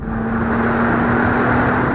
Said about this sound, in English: I even like the sound of that engine. Normally a V6 with turbos, it's not going to sound so good, but it's aggressive.